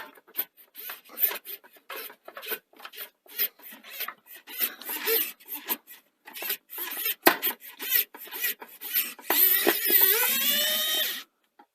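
A screwdriver works screws out of a Sony SL-C20 Betamax video recorder, giving short rasping, scraping turns in uneven bursts, close and fairly loud, ending in a longer continuous grinding scrape.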